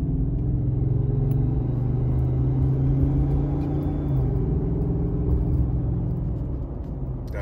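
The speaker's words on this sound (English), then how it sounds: "So right now, I'm gonna rev it." Engine of a fishing truck fitted with a custom intake revving, heard from inside the cabin as a steady, loud low rumble that swells and holds for several seconds with no talk over it.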